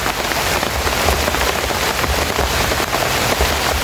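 Heavy rain falls as a dense, loud, steady hiss with scattered patter of drops striking surfaces, unbroken throughout.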